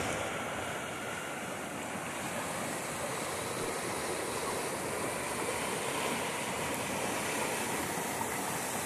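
Water from the São Francisco River transposition flows steadily through the Riacho Seco creek, a continuous broadband rush and gurgle with no pauses, fairly close and alone without any voices.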